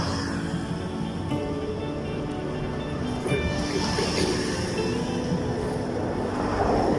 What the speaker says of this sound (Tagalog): Naririnig ko yung lagaslas ng tubig.